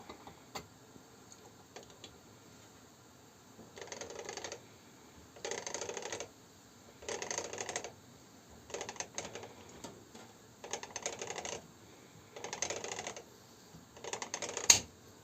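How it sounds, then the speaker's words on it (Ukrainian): Jar lids click on cucumbers just canned with chilli ketchup. Sharp, faint clicks come in a row of short bursts roughly every one and a half seconds in a quiet room, ending with one louder snap. "щелчок такий, це клацання, оце клац аж страшно"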